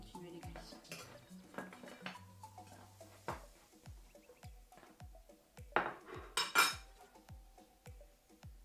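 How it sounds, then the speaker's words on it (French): Golden waffles are lifted from a waffle iron during a batch of baking, with a close sequence of metallic clanks and clinks of the iron and utensils, a soft scrape, and a louder clatter near the end. No one talks. "une fois que c'est bien doré, on va pouvoir retirer les gaufres et continuer les cuissons"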